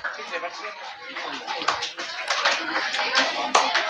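Audience clapping at a prayer house prize programme, a dense steady patter of many hands lasting throughout, with a voice talking over it.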